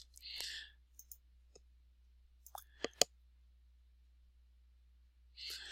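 Several sharp, quiet mouse clicks land in a near-silent room, sparse and irregular, with a couple of soft breathy noises at the start and end.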